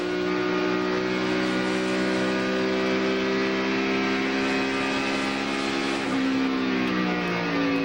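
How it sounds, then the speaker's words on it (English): A loud, steady NASCAR Winston Cup race car engine drone at Watkins Glen, with strong harmonic whine, holding a constant pitch that dips slightly near the end, heard close and without voices. "Let's listen to the engine, see if we can hear him miss."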